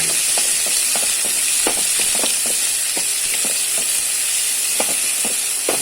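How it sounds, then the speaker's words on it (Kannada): Chopped onion frying in a pan for tomato rasam, a loud steady sizzle with scattered scraping strokes from stirring. "ನಾವು ಕೊಚ್ಚಿಕೊಂಡಿಟ್ಟಿರುವಂಥ ಈರುಳ್ಳಿಯನ್ನು ಇದಕ್ಕೆ ಆ್ಯಡ್ ಮಾಡಿ ಒಳ್ಳೆ ರೀತಿ ಒಂದು ಫ್ರೈ ಮಾಡಬೇಕು"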